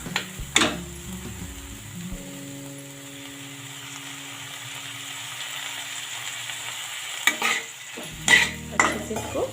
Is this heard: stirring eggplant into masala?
yes